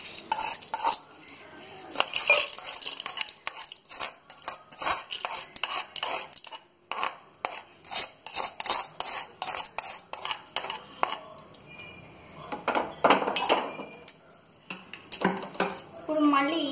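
Fried ingredients for a mango and coconut chutney being scooped into another dish, with repeated clinks and scrapes of a metal spoon against pots and bowls. The clatter comes in close, irregular bursts.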